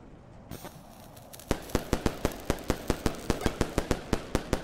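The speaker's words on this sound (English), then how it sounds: "Firecracker? Does it want me to use one?" A string of firecracker pops in the video game Animal Well, a quick run of about fifteen sharp, evenly spaced loud bangs after a brief crackling fuse-like start.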